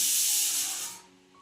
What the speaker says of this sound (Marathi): ती बघा कुकरची शिट्टी झाली ना